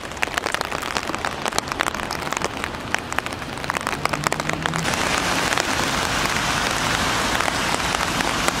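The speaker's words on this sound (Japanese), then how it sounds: "最悪だ、全然雨止んでないっすよ" Steady heavy rain falling outdoors on a city street in Hachioji, a dense continuous patter on surfaces that grows louder and fuller partway through, heard alone without speech.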